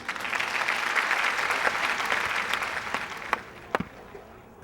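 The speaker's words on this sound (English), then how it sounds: "Let's give him a warm round of applause." Warm audience applause for a school principal before an evening game: steady clapping from a sizeable crowd that holds for several seconds, then tapers off into a few final isolated claps.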